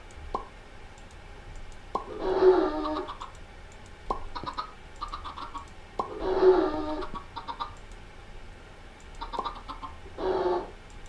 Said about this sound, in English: We got all the chickens now grown.